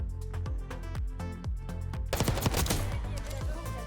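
Submachine gun fire in Black Ops 6 comes as rapid, rhythmic bursts of sharp shots, with a denser, louder volley in the second half layered over game ambience.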